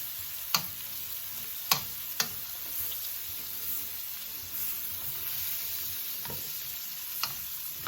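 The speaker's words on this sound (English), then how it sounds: "We just want to sweat the garlic." Garlic sweating in a pan over medium heat, a steady soft sizzle carrying on throughout, broken by a few sharp clicks and scrapes of a utensil as it is stirred.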